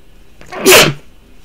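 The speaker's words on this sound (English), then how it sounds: "I got to sneeze." A single sharp sneeze bursts out close and loud, a quick intake followed by a bright explosive release lasting under half a second.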